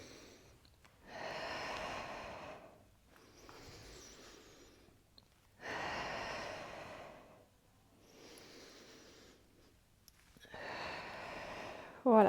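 Steady breathing during a Pilates abs and glutes workout comes as slow, even breaths, a few long inhales and exhales close to the microphone, with a brief sharp noise at the very end.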